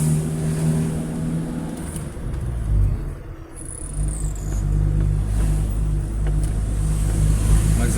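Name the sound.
car with adulterated fuel hesitating then accelerating, clutch slipping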